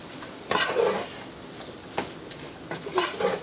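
Mushrooms cooking with flour and oil in a pan are stirred, giving a few soft scraping strokes over a quiet, low sizzle, close up and fairly faint, with no talking.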